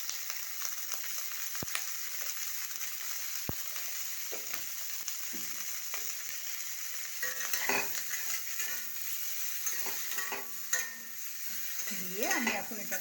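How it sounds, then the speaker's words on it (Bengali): Potato and cauliflower pieces seasoned with salt and turmeric sizzle steadily in a pan, with intermittent scraping and clinks of a spatula stirring against the metal throughout. "এখন এটাকে একটু এরকমভাবে নেড়ে চেড়ে ভাজা ভাজা করব"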